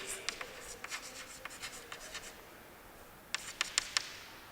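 Chalk or marker writes on a board during a math lecture, a series of faint, quick scratchy strokes in short clusters, with a pause in the middle and a final burst of taps near the end.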